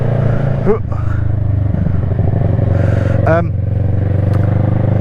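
The engine of a Kawasaki ER6N naked motorcycle drones steadily and loudly while it is ridden on a long journey. The rumble is close and continuous, with a rider's voice briefly over it.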